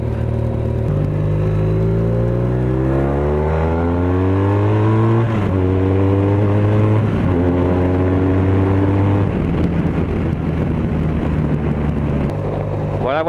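A motorcycle running on bioethanol pulls away from a fuel pump. Its loud, close engine note climbs, then drops at each of several gear changes, with wind buffeting the microphone throughout.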